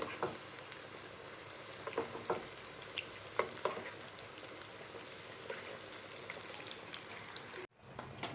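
Okra (lady's finger) pieces frying in hot oil, a continuous crackling sizzle with scattered pops and spits, steady and close, cutting off abruptly near the end.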